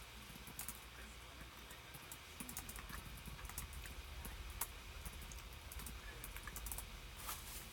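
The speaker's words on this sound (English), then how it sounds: "I'll type it in though" Quiet typing on a computer keyboard: a steady, irregular run of light clicks and taps close by, continuing for several seconds at low volume with faint background noise and no talk.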